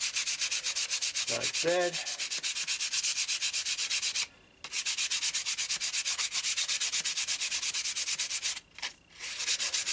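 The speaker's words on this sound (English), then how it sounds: "just get this sanded a little bit" Soft pine knife handle for a marking knife being hand sanded, giving a steady run of close, rhythmic rasping strokes with two brief pauses and a few spoken words early on.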